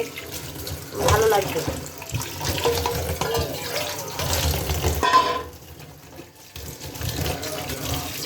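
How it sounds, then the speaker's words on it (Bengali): Tap water runs into a sink as bitter gourds are washed by hand in a home kitchen, a steady splashing flow under a woman's continuous speech, briefly dropping away near the end. "এখন আমি করলাগুলো ভালো করে ধুয়ে নেব"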